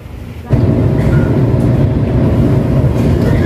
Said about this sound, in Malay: sudah naik kereta teman-teman, ini naik MRT